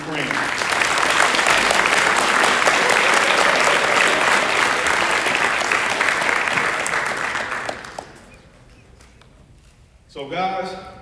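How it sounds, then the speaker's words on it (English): Loud, dense applause from an audience honoring student athletes at a high school college signing day, sustained for about eight seconds before fading, followed by a brief voice. "we want to give a round of applause to these students,"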